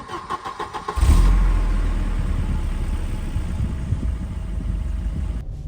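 A Volvo 740 car engine cranks briefly and catches at about one second, settling into a steady, close idle that runs alone to the end.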